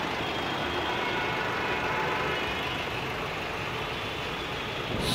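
A Maruti Suzuki Baleno Delta 1.3 DDiS diesel engine idles with the bonnet shut, a steady, muffled low hum heard close and unchanging throughout, with no talking.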